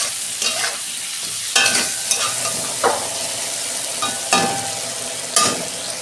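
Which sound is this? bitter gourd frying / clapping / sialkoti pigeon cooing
bitter gourd frying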